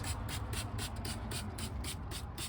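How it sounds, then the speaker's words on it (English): An orange-scented cleaner is sprayed from a spray bottle onto a car dashboard in quick, evenly spaced hissing bursts, about nine pumps in a row over a steady low rumble. "I'm gonna spray this stuff on there"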